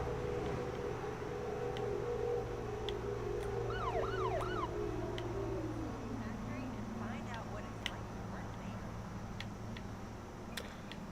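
Police car sirens in the video game MindsEye, a wailing siren sweeping down and fading at moderate distance, with brief yelping bursts over a steady engine hum and background game noise.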